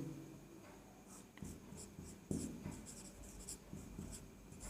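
Pen strokes scratch and tap steadily across paper while working through a Class 10 geometry lesson on triangles, close and continuous at moderate level with no talk.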